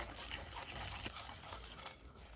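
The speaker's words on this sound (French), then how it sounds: "Je vais mélanger tout ça." A coconut and banana mixture is stirred in a bowl. The soft, wet scraping and swishing is faint and continuous, with a few small clinks.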